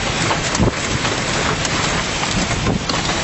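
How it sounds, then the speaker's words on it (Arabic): Heavy rain pours in a dense, steady rush during a severe storm, loud and close with gusty surges and no talking. "شوفها، واو، عاصفة خطيرة، عاصفة صعبة جدا غير عادية"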